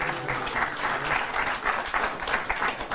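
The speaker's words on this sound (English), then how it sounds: "The only applause Reince Priebus will ever get." A studio audience at a comedy talk show claps steadily, dense applause filling the whole stretch at an even, fairly close level.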